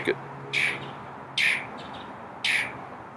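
A pet bird gives three short, bright chirps spaced roughly a second apart, loud and close, over a quiet indoor background with a faint low hum.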